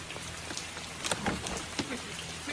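Rain falls steadily on a surface in a close patter with scattered louder drops, no voices present.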